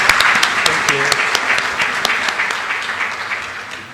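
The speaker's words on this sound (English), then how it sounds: "Just a big applause to the panel" A conference audience applauds its panel, with loud, dense clapping from many hands that starts strong and fades slightly toward the end.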